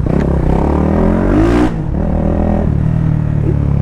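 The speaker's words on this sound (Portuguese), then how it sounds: "Eita, moto bruta" A 470cc motorcycle revs hard and close, its loud engine rising and falling, then easing back to a rough, rumbling idle on a gravel surface.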